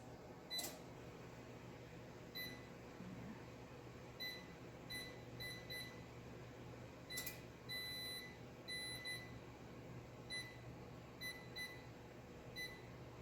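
A digital oven control panel beeps repeatedly while a 45-minute timer is set: short, faint, high electronic chirps arrive in small clusters over a steady low room hum.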